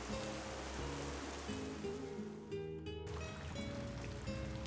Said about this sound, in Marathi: आणि पावसाला सुरुवात झाली